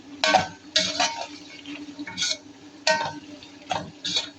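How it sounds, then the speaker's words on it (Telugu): Tomatoes being stirred into frying chicken for biryani, with a series of close clinks and scrapes of a spoon against the pot in an uneven rhythm over a low sizzle. "ఇప్పుడైతే టమాటా వేసుకుని కలుపుతున్నాను"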